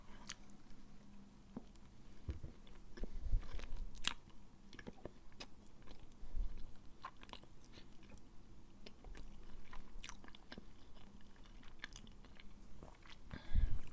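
Someone eats Nutella, original and plant-based, at a breakfast tasting, with close, quiet chewing and soft sticky squishes broken by occasional small bites and clicks. No one speaks.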